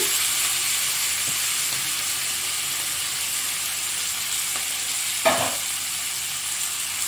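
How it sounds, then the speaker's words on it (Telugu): Onion and tomato fry in a pan with a steady, soft sizzle that runs the whole time, plus a single brief clatter about two-thirds of the way through. "ఇప్పుడు దీనిలోనే ఉల్లిపాయ, టమోటా ఇవి వేసేసుకుని బాగా మగ్గనివ్వాలండి."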